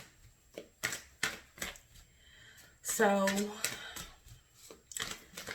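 Tarot cards being shuffled by hand, a run of soft riffling flicks and taps repeating steadily near the microphone, with a woman's brief speech breaking in partway through.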